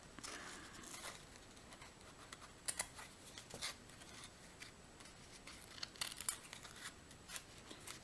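Scissors snip ribbon trim on a decorated shell project in a quiet room, a series of light, crisp cuts at an irregular pace that grow sharper and more frequent toward the end; no speech.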